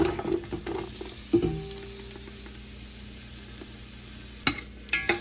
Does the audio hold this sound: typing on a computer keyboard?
no